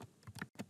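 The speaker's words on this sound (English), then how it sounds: "And I'm just typing here" Keys clatter on a computer keyboard while someone types in Android Studio, a quick run of soft, close taps followed by a brief pause and one more keystroke.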